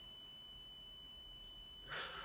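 Alarm base station re-alerting once a smart bracelet's snooze timer runs out: a brief, loud burst of bright electronic alarm tone that starts near the end, over a steady high-pitched hum.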